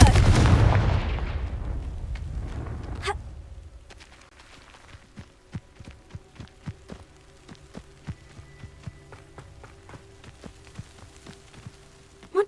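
A Confringo spell blast from the video game Hogwarts Legacy lands as one loud burst that decays, followed by a sharp crack and a run of faint, evenly spaced ticks and pops in a quiet setting.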